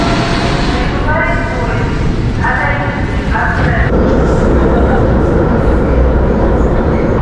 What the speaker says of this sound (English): I think this is the train.